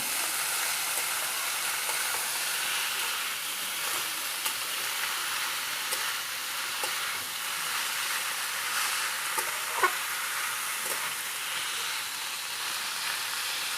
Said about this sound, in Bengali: পেঁয়াজের সাথে আমি চিচিংড়াটাকে মিশিয়ে নেব